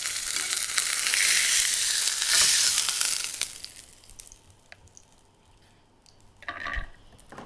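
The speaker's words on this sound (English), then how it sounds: "We just sear the outside and a tiny bit here on the belly" Salmon belly sears in a hot pan, a loud, dense sizzle for several seconds that then drops to a faint crackle before a brief flare of frying near the end.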